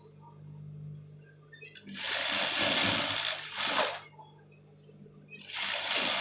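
A sewing machine stitches the hood of a djellaba in two bursts of fast whirring, loud and close with a pause between, while a voice talks faintly in the quieter moments.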